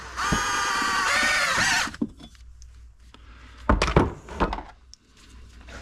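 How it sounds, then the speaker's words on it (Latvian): Power drill driving a self-drilling screw during a BMW N47 timing chain job: a loud, steady, high whirring burst that stops after about two seconds, followed by clanks and scraping of metal tools up close. "Tad ieskrūvējam pašurbjošo skrūvi."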